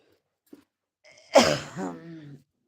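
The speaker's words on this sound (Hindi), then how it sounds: "खांसी बहुत ज़्यादा आ रही है।" A single harsh cough or throat-clearing burst after a brief faint click, close and fairly loud, then trailing off.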